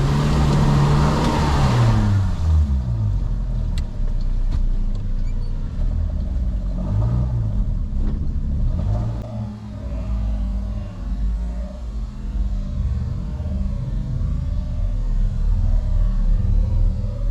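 Off-road car pulling away after a trail recovery, its engine loud and close at first with rising revs, then settling into a steadier rumble as it moves off over the rough track.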